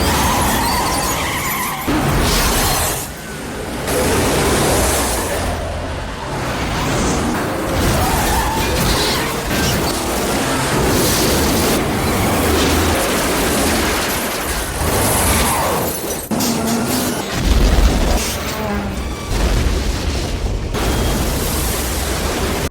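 A mining truck skids and plunges off a cliff in a film scene, a loud, sustained roar of skidding tyres and engine noise with crashing bursts and no speech.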